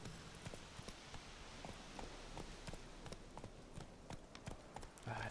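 Horse hooves clip-clop at a steady running pace in The Witcher 3: Wild Hunt, a quick, even patter of hoofbeats over a constant low background, no talk.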